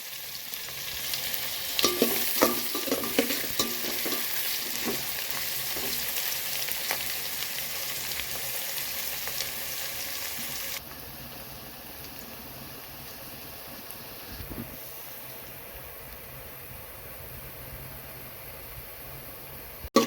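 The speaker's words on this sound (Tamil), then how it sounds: "வெங்காயம் நல்லா வதங்கணும் ப்ரௌன் கலரில் வரணும்" Sliced onions fry in hot oil for egg biryani, a dense steady sizzle with scraping stir strokes, loud and close at first, then dropping to a quieter hiss about halfway through, with no one speaking.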